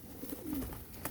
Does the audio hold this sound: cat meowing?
no